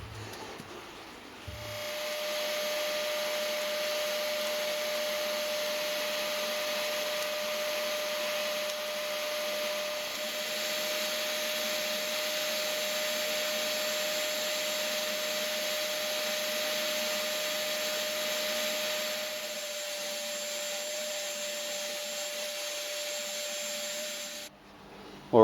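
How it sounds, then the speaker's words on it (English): A vacuum cleaner runs steadily as dust extraction on a homemade milling machine build, a continuous loud whine with a steady high tone, starting abruptly and cutting off near the end, with no talk. "I've just turned the vacuum cleaner off"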